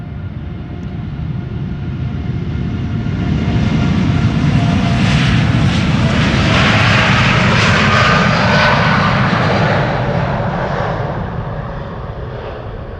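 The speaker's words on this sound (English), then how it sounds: "This is TUI flight 369 to Willemstad, Curaçao. It is a 7878 Dreamliner." A TUI Boeing 787-8 Dreamliner departs Amsterdam Schiphol with a loud, steady engine roar that builds through the middle and then slowly fades as it climbs away.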